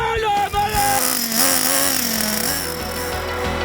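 A T2M Pirate 8.6 nitro RC car engine runs steadily at a high, buzzing whine, close and loud, with slight rises and dips in pitch over a few seconds.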